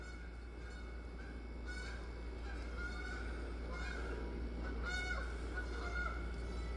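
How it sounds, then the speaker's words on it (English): Canada geese honk repeatedly from a distance, their calls rising and falling over a constant low hum in the background. "Y'all hear the friggin' Canadian geese?"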